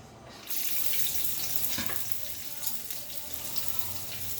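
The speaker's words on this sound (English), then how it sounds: "Make sure our wok is hot. Little oil. I put the garlic in." Garlic hitting a little oil in a hot wok, a steady bright sizzling hiss starting suddenly and continuing loud and even, with a few faint clinks.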